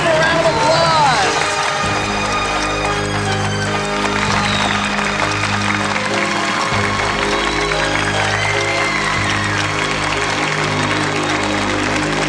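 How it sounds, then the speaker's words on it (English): A studio audience applauds and cheers steadily for a man who has just succeeded, loud and continuous throughout, with sustained musical tones running underneath. "Let's give him a round of applause!"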